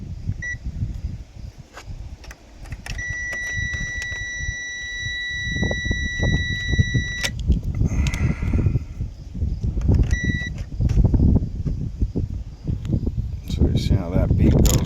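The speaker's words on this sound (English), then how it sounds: "so you see how that beep goes off" Electronic tester beeps sound while a car's electrical short on a main fuse supply line is traced, a steady tone running several seconds and then a shorter one later, over engine or shop noise and someone talking.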